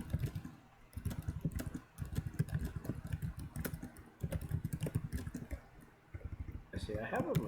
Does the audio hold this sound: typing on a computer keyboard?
yes